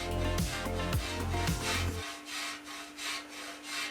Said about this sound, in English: I like to use this side of the grater to grate the ginger.